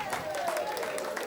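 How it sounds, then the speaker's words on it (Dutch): Audience applause at a televised Limburg carnival show breaks out for a carnival performer, the Prince of the Tomcats, as a dense, steady patter of clapping hands fills the room with voices mixed in. "Geef hem nog een geweldig applaus"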